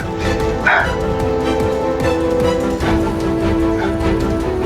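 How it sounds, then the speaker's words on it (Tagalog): Several dogs bark and yip repeatedly in the distance over a constant background drone, the barks blending into a continuous noisy chorus. "May mga aso na rinig tayo tol."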